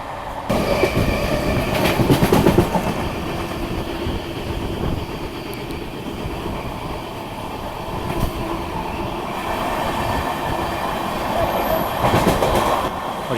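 Mizoram Rajdhani Express train running on rails, a steady rumbling roll with clicking wheel joints and occasional squeals, heard from inside a first class coach with no talking.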